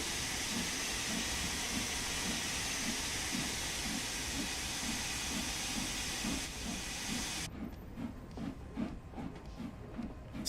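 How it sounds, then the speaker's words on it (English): Steam hissing hard from a locomotive valve in Train Sim World 3, a loud continuous broadband rush with a steady chuffing pulse beneath, the hiss thinning near the end. "Jesus, the amount of steam coming out of there."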